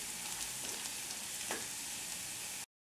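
Frying in a pan for sarson ka saag, a soft continuous hiss with one brief scrape of a utensil midway, quiet and close, with no talking before it cuts off abruptly.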